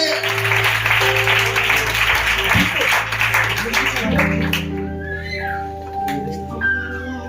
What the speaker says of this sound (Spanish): ¿Cuántos aplauden la gloria de Jesús?